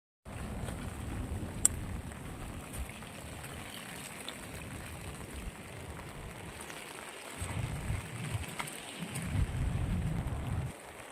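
Steady rain falls near seaside houses, a broad continuous hiss with a low rumbling undertone of wind or distant surf, swelling louder toward the end.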